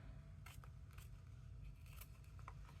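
Scissors trim a bingo card, making a handful of faint, quick snips spread irregularly over a low, steady background hum.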